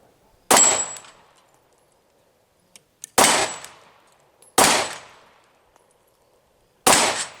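A Glock 48 pistol fires four sharp, loud shots at irregular intervals outdoors, each crack trailing off in a short echoing decay.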